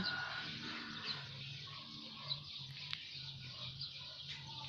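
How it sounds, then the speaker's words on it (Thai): Quiet outdoor morning ambience in Mueang Yang, Thailand, with faint birds chirping and distant chickens clucking now and then, no voices. "มีแต่เสียงนกเสียงไก่นะคะ"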